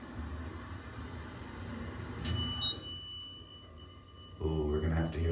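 A single bright elevator arrival bell dings over the steady mechanical hum of an original Schindler-Haughton hydraulic parking elevator, fading with a faint ringing tail before louder rumbling returns.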